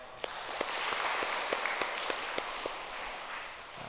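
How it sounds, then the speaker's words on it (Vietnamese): A congregation in a Catholic church applauds the women of the Rosary association at a feast-day Mass of Our Lady of the Rosary, steady dense clapping with a few sharper claps standing out, sustained throughout without talk. "chúng ta cùng nổ một tràng pháo tay để chúc mừng"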